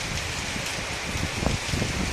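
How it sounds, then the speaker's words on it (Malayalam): Heavy wind-driven rain pours in a dense, steady hiss, close and unbroken for a couple of seconds. "രാവിലെ മുതൽ ഭയങ്കര കാറ്റും മഴയാണ്"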